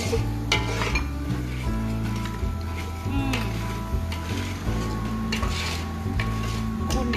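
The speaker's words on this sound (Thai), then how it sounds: "อันนี้พี่สายผัดไป" Shrimp chili paste being stir-fried in a pan, with steady sizzling and the scrape and clink of a utensil against the pan running throughout, moderately close.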